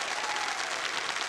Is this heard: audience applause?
yes